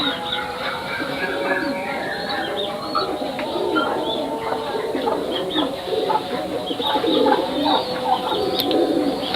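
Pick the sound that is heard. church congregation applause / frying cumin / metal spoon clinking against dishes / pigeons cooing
pigeons cooing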